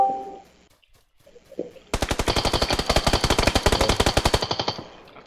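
Automatic gunfire in PUBG runs as a loud, rapid, even burst of shots for about two and a half seconds after a quiet stretch with faint game sounds.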